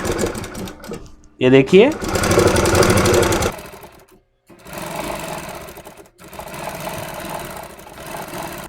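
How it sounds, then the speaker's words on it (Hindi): A sewing machine stitches a net blouse along the outside of a canvas lining, running in loud steady bursts with brief pauses between, while someone talks over it. "अब यहाँ पर हम कैनवास के बाहर तरफ से सिलाई लगा देंगे।"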